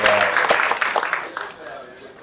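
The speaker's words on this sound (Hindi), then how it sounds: "बहुत बढ़िया लिखा आपने, बहुत बढ़िया टाइटल, जोरदार तालियां।" An audience at a film trailer launch applauds for just over two seconds. The clapping is loud and broad, with a voice talking over it that fades as the clip ends.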